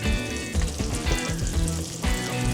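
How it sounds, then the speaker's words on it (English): Fennel seeds crackle and sizzle in a pan of glazed carrots, a loud, continuous frying hiss with small popping bursts throughout, no voices. "to give some good flavor, I will add the fennel seeds"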